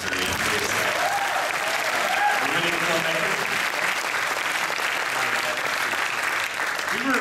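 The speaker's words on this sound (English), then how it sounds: "we should all give another round of applause" Sustained, steady applause from a large audience at a film festival world premiere, filling the whole stretch with dense, even clapping and some crowd murmur underneath.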